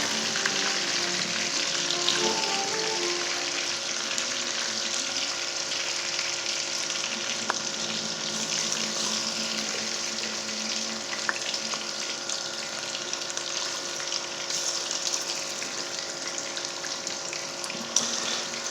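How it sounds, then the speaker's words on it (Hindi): Chicken pieces for a crispy fried chicken fry steadily in hot oil, a dense, even sizzle and crackle that holds close and loud throughout with no talking over it. "अब इसको हम फ्राई करेंगे।"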